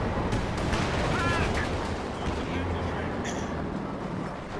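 A 57 mm anti-tank gun fires in a Company of Heroes 2 3v3 battle against an advancing Panzer IV, with dense game noise, scattered shots and a sharp report near the middle, all under continuous talk.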